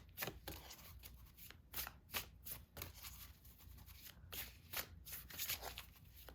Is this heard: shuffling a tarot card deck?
yes